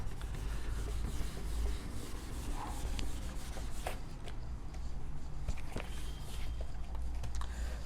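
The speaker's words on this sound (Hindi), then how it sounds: "अच्छा, फर्स्ट पार्ट पहले मैं रब कर देता हूँ।" Steady scrubbing of a duster rubbing writing off a classroom board, continuous and close, with a few light knocks and no talk.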